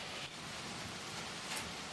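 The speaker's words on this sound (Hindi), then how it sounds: "अभी बिल्कुल बारिश लगी हुई है" Light, fine rain falls steadily in a village, a dense even hiss with no distinct drops or voices, continuous for the whole two seconds.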